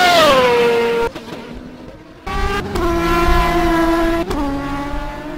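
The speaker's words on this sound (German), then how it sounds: "Und er lässt hier wirklich die Räder stehen, bremst auf der letzten Rille." A touring race car in the RSA Toprace series brakes hard with its wheels locking. The loud, close engine note drops in pitch in several steps, broken by short gaps between them.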